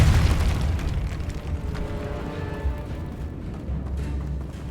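Depulso spell cast in Hogwarts Legacy, a deep booming blast that opens loud and trails into a rumbling, crackling decay with scattered debris-like pops.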